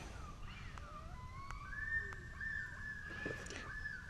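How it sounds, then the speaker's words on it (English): A loon calls with long, drawn-out wailing tones that rise and hold, heard faintly at a distance over a quiet, low background hum. "The loon is saying good morning to us."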